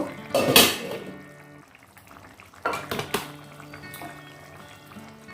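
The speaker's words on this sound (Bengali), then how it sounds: "এবার আমি ঢাকাটা খুলে দেখব।" A metal lid is lifted off a pan of egg posto with eggs and onion, giving a sharp clatter near the start and another clink midway, then a quiet bubbling simmer.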